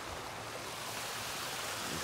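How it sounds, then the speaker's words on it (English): A park waterfall pours in a steady, dense rush of water, loud and unbroken throughout, with no voices over it. "The waterfall."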